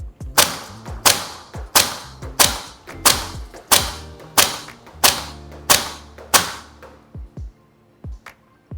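A Maruyama ISO556 (B&T APC556) airsoft rifle fires about ten shots of 0.36 g BBs on a 30 m range: sharp, snappy cracks at an even, brisk pace, each with a short echo, then quiet.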